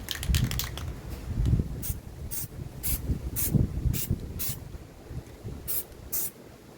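Short bursts of spray paint dusting a rifle scrim camouflage: several brief hissing sprays at irregular intervals over faint rustling handling sounds, close and fairly quiet.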